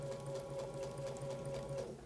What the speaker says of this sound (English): Now I want to go exactly over that point when I sew this seam